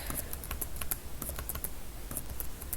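Rapid clicking of a computer keyboard as commands are typed into a batch file explorer program, steady close keystrokes with no talk.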